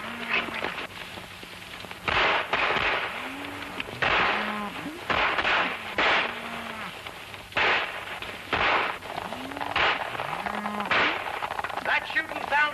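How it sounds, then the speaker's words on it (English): Sharp, repeated gunshots ring out at irregular intervals, echoing loudly over a busy background of voices and rustling, like a distant gunfight down a valley in a 1941 Western film. "That shooting sounds down the valley."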